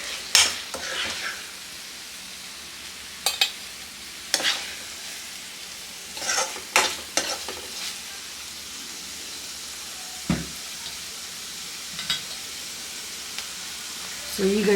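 A spoon scrapes and stirs a masala paste through cooked rice for lemon rice, giving intermittent scraping strokes over a quiet background sizzle.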